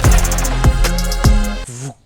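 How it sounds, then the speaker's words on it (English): A trap-pop production transition from intro to chorus: a swelling riser under a synth chord, punctuated by three heavy low hits, then a closing bass hit that falls away into a short fading tail. "And then a riser and a hit."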